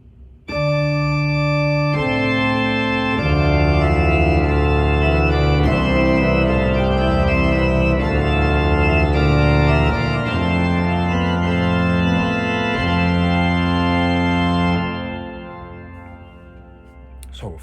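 Sustained pipe organ chords with a rich reedy tone from an 8-foot reed stop coupled to the pedal, played an octave lower, changing every second or two, then cutting off and ringing out.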